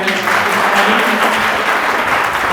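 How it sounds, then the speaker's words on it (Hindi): Applause from a large audience at a public gathering in Gorakhpur, a dense steady patter of many hands clapping throughout, loud and close with no pauses. "एक बार जोरदार तालियां बजाएं।"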